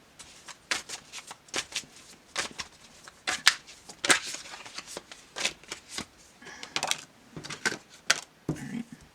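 Tarot cards shuffled and slid against one another while one is worked free of the deck during a reading: a run of soft, papery riffling flicks and taps, close and fairly quiet, with no talk.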